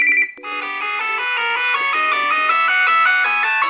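Arcade ringtone on a Samsung Galaxy S20+, a loud, bright electronic chiptune-style melody of rapid synthesized notes after a brief opening tone, playing alone and close.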